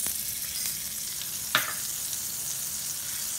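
A dollop of butter melts in a heated pan, giving a steady, soft sizzle throughout with one brief clink partway through.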